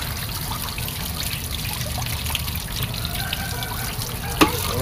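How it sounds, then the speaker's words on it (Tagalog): Tap water runs and trickles steadily into a kitchen sink while dishes are washed, a soft continuous splash with one brief clatter near the end and no speech. "Tubig."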